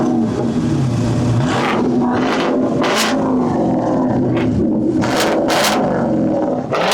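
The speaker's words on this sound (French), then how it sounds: "On va aller lui demander s'il peut nous faire une petite accélération." Loud, deep American truck engine rumbling close by, revving up in several throaty surges over a continuous growl.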